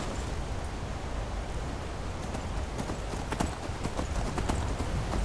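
Horse hooves pound rapidly in a galloping rhythm over a loud, rushing noisy background in the video game Skyrim.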